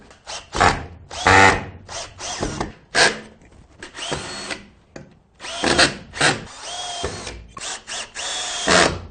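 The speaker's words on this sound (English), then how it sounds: "we're just going to finish off by popping the screws into the holes." Screws go into a timber pegboard frame mounted on a wall as a cordless drill runs in a series of close, loud, stop-start bursts with brief pauses and clicks in between.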